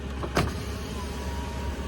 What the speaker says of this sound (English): Let's see if there's windows. Crown Vics are notorious for the windows breaking.